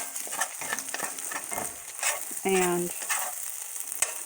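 Shrimp, scallops, tomato and garlic stir-frying in a pan, a close crackling sizzle broken by scraping stirs, with a brief tonal squeak partway through and one short spoken word.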